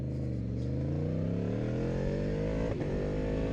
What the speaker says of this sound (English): when I'm really getting on it, you guys can hear the motorcycle pretty well